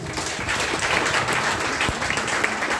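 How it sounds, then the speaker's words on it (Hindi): A crowd applauds loudly for a speaker's parents, dense steady clapping filling the short burst from start to finish. "मैं चाहती हूँ मैं अपने माता पिता के लिए जोरदार ताली"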